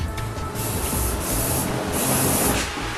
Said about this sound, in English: it has to be sprayed with red oxide to prevent any possibility of rusting